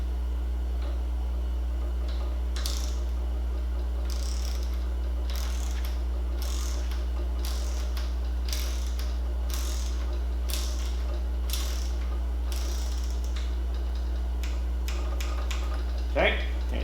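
A torque wrench clicks repeatedly while nuts are tightened on a Fox 36 fork lower leg in a workshop, a series of short, evenly spaced ratchet ticks over a low steady hum.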